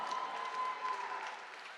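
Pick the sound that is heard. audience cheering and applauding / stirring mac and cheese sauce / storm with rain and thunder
audience cheering and applauding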